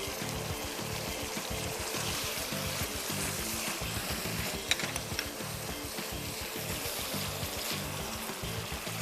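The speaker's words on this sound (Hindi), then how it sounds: "ये देखा, ऑलरेडी ये सिजल करना शुरू हो गई है।" Gobi Manchurian sauce with tomato ketchup, sugar, green and black chillies sizzles steadily in a hot pan, a dense continuous hiss and crackle close up with no talking.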